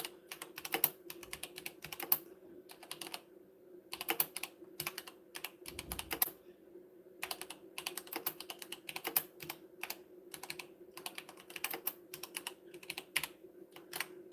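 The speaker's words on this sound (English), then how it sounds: "I'm typing in some questions" Quiet, steady clatter of fingers typing on a computer keyboard, in irregular bursts with brief pauses, close by and with no talking.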